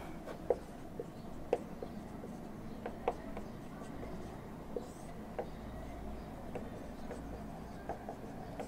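Chalk or marker writing on a board during a chemistry lesson, heard as faint, scattered scratching strokes and light taps in a quiet room, spaced irregularly.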